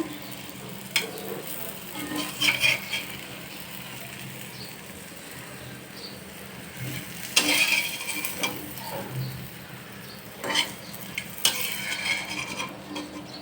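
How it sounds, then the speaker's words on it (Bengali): Round ash gourd slices fry in a pan with a soft, steady sizzle, broken now and then by brief clinks of a spatula against the pan. No one speaks. "এরকম গোল গোল করেই আমি ভাজি"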